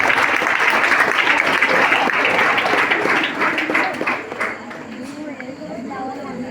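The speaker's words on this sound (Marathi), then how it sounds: "टाळ्या वाजवा." An audience at an educational guidance and library opening event claps on request. A dense burst of close applause holds for a few seconds, then thins out, with voices talking over it.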